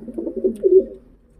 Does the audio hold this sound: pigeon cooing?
yes